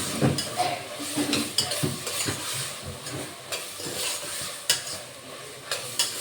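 A spoon scrapes and taps in a pan with irregular clinks, over a soft sizzle of Maggi masala and garam masala frying for Maggi rice; no voices.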